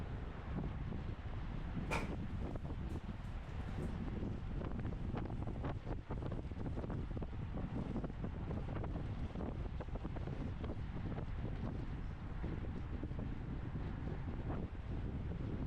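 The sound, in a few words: wind, headwind during bicycle race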